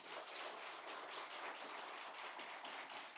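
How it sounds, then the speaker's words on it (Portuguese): A church congregation at a Sunday service claps together, a fairly faint, steady wash of applause heard at a distance without talk. "Pode aplaudir o Senhor."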